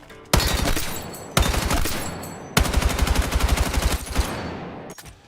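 Assault rifle fire from a video game match comes in three loud, close bursts of rapid automatic shots, each cutting off sharply, the last burst the longest.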